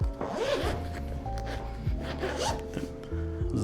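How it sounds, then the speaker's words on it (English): A zipper is pulled along a Lexland seat headrest cover on a 2024 Toyota Tacoma, with several close, rasping zip strokes and fabric rubbing mixed with low handling thumps. "zip it up."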